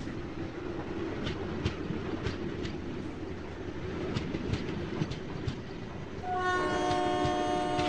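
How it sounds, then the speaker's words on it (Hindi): A train in a 3D Indian railway video game passes a junction with a continuous rumble and rhythmic wheel clicks, then a sustained, tonal horn blares loudly toward the end. "चलो, ये तो ट्रेन यहाँ से निकल चुकी है।"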